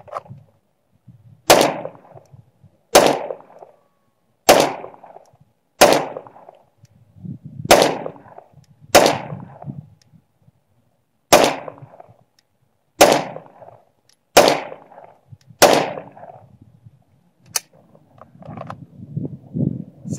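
Ten gunshots fired at a steady pace on an outdoor range, each a sharp loud crack with a brief echoing tail, spaced roughly one to two seconds apart, close by, with faint rustling between.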